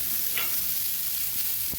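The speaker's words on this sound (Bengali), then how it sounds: "এবার সুন্দরভাবে নেড়ে নেড়ে হালকা হাতে ভেজে নেব" Broccoli is stirred and fried in a pan, giving a close, steady hiss of frying with a faint scrape or two near the end and no talking.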